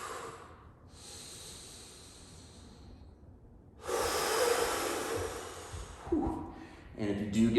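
Slow, drawn-out nasal breaths through an intense contralateral bridge grab stretch, long airy inhales and exhales close to the mic, with faint voice creeping in toward the end.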